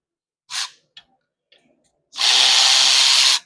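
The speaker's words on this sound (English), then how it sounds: "I grabbed an electric ratchet because I don't feel like being here all day." An electric ratchet loosens caliper bolts on a pickup's brakes. There are a short whir and a few faint clicks, then one loud sustained whirring run lasting over a second, close by with no talking.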